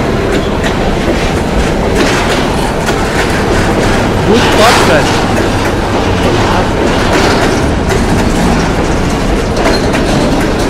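A train runs through a station with a loud, continuous rumble and rhythmic clickety-clack of wheels over rail joints. It stays close and dense the whole time, with people talking over it.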